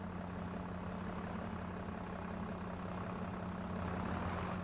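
A small tractor engine idles in a steady, low, even drone with a constant hum. It sounds fairly close and continuous, and no one speaks.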